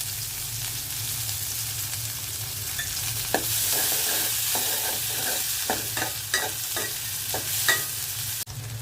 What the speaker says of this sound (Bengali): তেল দিয়ে দিয়েছি, পেঁয়াজ দিয়ে দিচ্ছি তেলের মধ্যে।